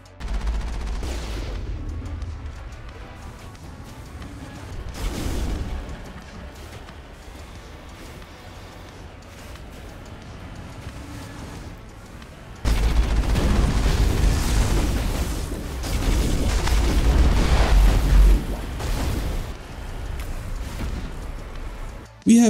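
Cannon fire from the Mako vehicle in the Mass Effect game, with deep booms and a rumbling barrage of explosions, quieter at first and then a sustained loud burst of fire.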